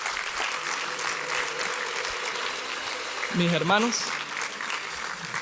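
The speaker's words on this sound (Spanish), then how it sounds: "Denle un fuerte aplauso al Señor." A church congregation applauds, with steady clapping throughout and a voice speaking briefly over it near the middle.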